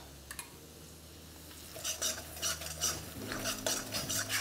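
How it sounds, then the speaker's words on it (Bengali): Gram flour (besan) with ginger and green chili is stirred in a pan, a spoon scraping and tapping against the metal in a run of close, irregular strokes that grow busier halfway through, with a faint low hum underneath. "2 চা চামচ বেসন দেওয়ার পর ভালো করে এটাকে মেশাতে থাকুন।"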